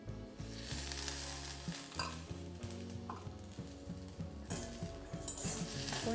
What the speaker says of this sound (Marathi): कांदा असा व्यवस्थित भाजत आला की त्यामध्ये अगदी थोडंसं मी इथे तेल घालून घेते